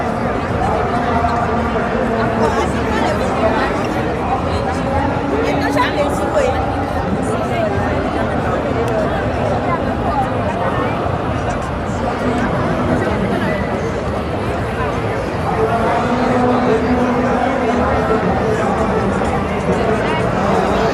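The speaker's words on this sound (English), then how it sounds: "Look at the crowd here along the crossroads of the world. That's a big crowd that we have here." Dense, steady chatter from a large crowd at the Times Square crossroads in Manhattan on a Saturday night, a continuous close murmur of many voices with no single sound standing out.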